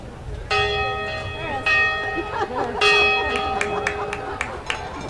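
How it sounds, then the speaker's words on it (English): A large bell rings out at a college football homecoming game, with several loud resonant strokes a second or so apart, each leaving a long humming decay, and a crowd murmuring and commentators talking underneath. "Joe Lyon now ringing the bell"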